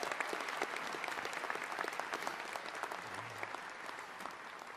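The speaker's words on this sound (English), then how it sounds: "let's give them a big round of applause" Steady, dense applause from a large crowd at a graduation ceremony, clapping continuously at an even level throughout without pause.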